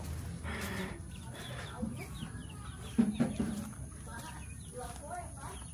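Village chickens in Tangerang, Indonesia cluck in short scattered bursts at moderate distance, mixed with outdoor morning ambience and a brief louder knock near the middle.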